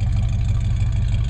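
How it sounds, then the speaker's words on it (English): A 1965 Ford Falcon, an original California car, idles with a steady, loud low exhaust rumble close by, alone with no talking. "listen to the exhaust"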